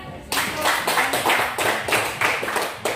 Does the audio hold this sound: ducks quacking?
no